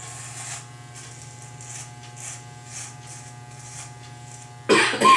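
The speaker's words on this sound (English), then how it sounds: "So I'm gonna shave the sides right now. I'm gonna use a number 0, which is like no clipper at all." Electric hair clippers buzz steadily at close range while shaving the sides of a head down to a zero guard, with a rising rustle of cutting and a louder burst near the end.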